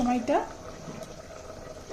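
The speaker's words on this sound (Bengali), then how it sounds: "দেখো কত সুন্দর ফুটছে, খুব জোরে জোরে ফুটছে" A liquid boils hard in a clay pot on a gas stove for potato papad, giving a low, continuous bubbling rumble after a brief voice at the start.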